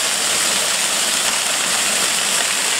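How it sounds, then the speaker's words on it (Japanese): A multi-tier waterfall cascading in two or three steps near an abandoned tunnel gives off a dense, unbroken roar of rushing water, loud and steady throughout. "滝が流れてます。 2段、3段ぐらい滝になってますね。"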